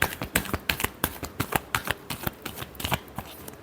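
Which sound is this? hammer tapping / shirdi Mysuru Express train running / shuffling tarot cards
shuffling tarot cards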